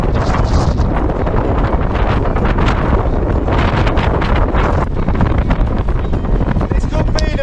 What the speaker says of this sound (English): Recording winds up to now a 32-mile-an-hour gust